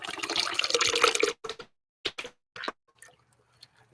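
Liquid pours from a can into a container while preparing raw dog food, a steady splashing stream for over a second followed by a few short separate pours and drips.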